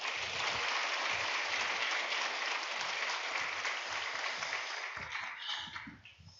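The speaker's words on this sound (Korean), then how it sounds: "큰 박수로 모시겠습니다." A Korean church congregation applauds to welcome its elder pastor at a Sunday noon service, broad sustained clapping filling the room for several seconds before tapering off at the end.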